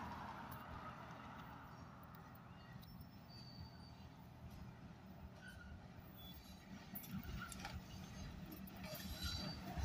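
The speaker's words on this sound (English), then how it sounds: "Here comes the train." A freight train led by the J on the Hartwell Railroad rolls steadily past close by, a continuous low rumble of wheels on rails with occasional metallic squeals, growing slightly louder toward the end.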